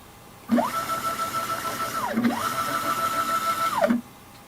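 Homemade all-steel CNC router Z axis plunging one inch and returning at 25 inches per minute: a stepper whine rises in pitch, holds steady, falls, then repeats the same down-and-up move, two clear sweeps with no talk.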